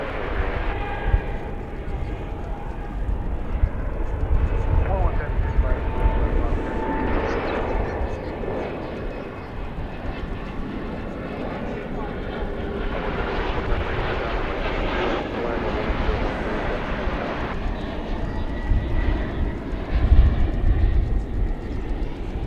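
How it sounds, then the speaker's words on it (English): A China Airlines Boeing 747-400 cargo jet at DFW airport, a long, loud rumbling roar that swells and fades, heard from a distance with a voice talking over it at times. "747-400 China Airlines cargo going out to Anchorage."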